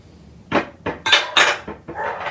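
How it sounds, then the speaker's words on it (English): Mayonnaise, Dijon mustard, salt, pepper and celery seed for potato salad are mixed in a bowl with a utensil, giving about six close, clattering scrapes and knocks in uneven rhythm, with no talk. "let's mix together the mayonnaise, salt and pepper, celery seed, and the mustard"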